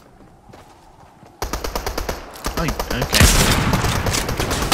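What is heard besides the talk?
cannon gunfire in video game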